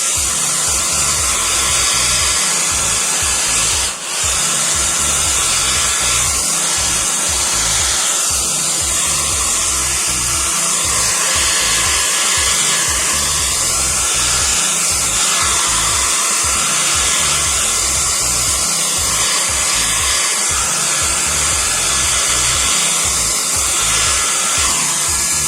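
A hair dryer blows on wet watercolor paint in a loud, steady whir that runs nearly unbroken for about twenty-five seconds, with one brief dip early on.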